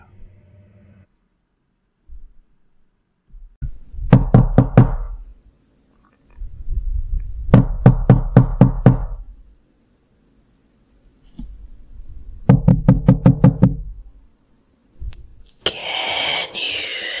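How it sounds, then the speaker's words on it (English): Knocking in a horror audio story: three separate bursts of rapid, heavy, close knocks with long silent gaps between them, followed by a short swell of different noise at the end. "Can you not hear me? I am knocking."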